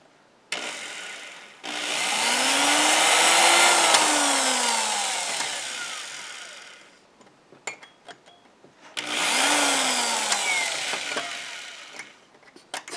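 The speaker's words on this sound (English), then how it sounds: "So let's just drill this a tiny bit." A small power drill whirs into a pinball machine part in two bursts, a long run with the motor pitch rising and falling, then a shorter burst after a pause with light clicks.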